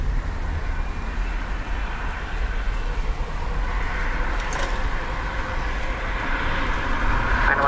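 An Emirates airliner takes off from runway 10 right at a wet, windy Dublin Airport, a steady loud low rumble and roar of engines heard from a distance that holds throughout without talk.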